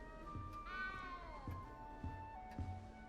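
A cat in the Hogwarts Legacy video game lets out a drawn-out, wavering meow, close and clear, over soft game ambience with faint thumping steps.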